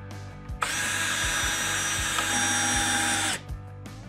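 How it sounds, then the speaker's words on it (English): Close power drill driving screws through a cedar desk top down into corbels, a steady whine running about three seconds after a short bump, with faint thuds beneath it. "So the last thing we're gonna do is actually screw the top down to the corbels."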